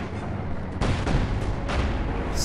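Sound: cannon firing in video game Company of Heroes 2

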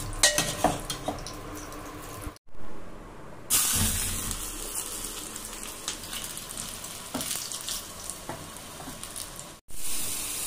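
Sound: tempering (tadka) in ghee sizzling for dal

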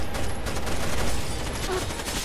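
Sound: gunfire in the video game Rainbow Six: Vegas 2

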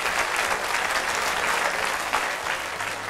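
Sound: audience applause for a child's story

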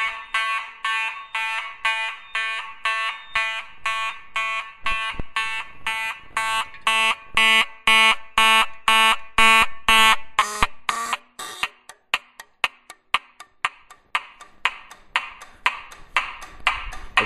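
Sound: Simplex 2901 fire alarm horn with pitch adjusted down

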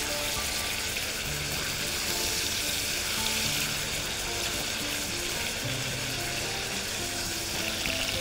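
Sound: steak searing in a pan

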